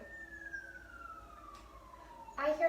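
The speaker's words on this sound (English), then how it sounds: "I hear sirens almost every time I record my videos" An emergency vehicle siren outdoors, a single faint, distant wail sliding slowly downward in pitch, heard through a quiet room before a brief louder noise at the end.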